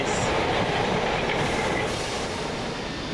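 A Govia Thameslink Class 319 electric train departs from the station, its wheels clattering and squealing faintly on the rails in a continuous rolling rush at moderate distance, with no talking.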